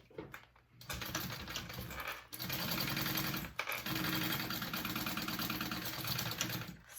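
A sewing machine runs in steady bursts as it bastes fabric pieces together into one circular piece for a convertible bag, a short pause near the start and another brief break midway, the rapid needle chatter loud and close.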